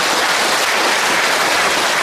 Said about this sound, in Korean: 모두 점등을 축하하는 박수 부탁드립니다